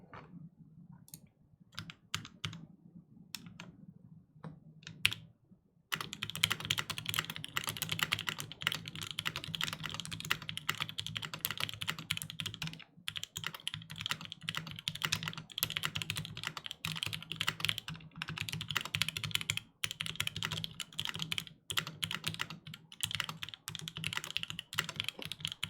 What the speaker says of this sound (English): Can you briefly type on the keyboard?